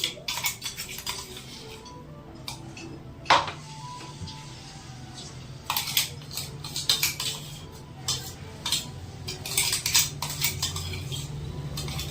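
Garlic and green chili paste being stirred into hot oil in a kadhai, with irregular metal clinks and scrapes from the spoon against the pan over a low steady background, no talking.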